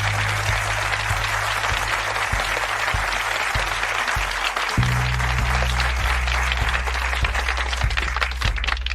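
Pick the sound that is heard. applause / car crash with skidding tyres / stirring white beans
applause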